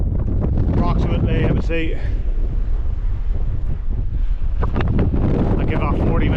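Strong wind buffets the microphone in gusty roars while someone speaks briefly over it, on a hike in the Mourne Mountains.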